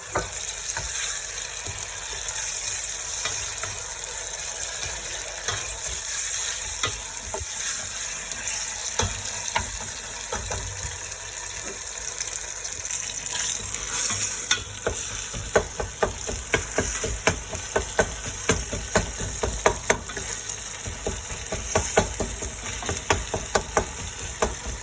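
Browned onions and added tomatoes fry in a pan for achari chicken, giving a steady close sizzle. Rattling stirs and scrapes of a spoon come in more often as it goes on.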